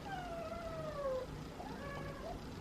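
Feral cats meowing near a snack of salad shrimp, a drawn-out falling meow followed by shorter rising calls, moderately loud over a steady background hiss.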